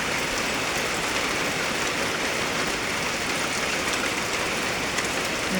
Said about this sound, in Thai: บรรยากาศฝนตกพี่น้องเอ้ยบูญนะ